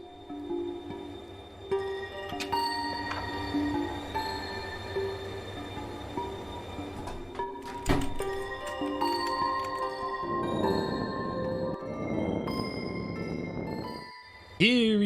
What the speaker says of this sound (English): Eerie train.